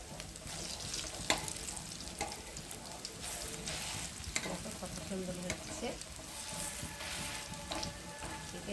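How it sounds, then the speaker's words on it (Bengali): Egg and potato fritters frying on a flat tawa, with a steady continuous sizzle and occasional scraping or turning clicks throughout. "আমি তাওয়ার মধ্যে করে করে ভাজলে বেশ ভালো লাগে"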